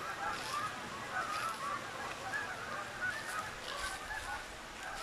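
A large flock of geese honks continuously from the middle distance in an open valley, with overlapping loud calls forming a steady raucous chorus.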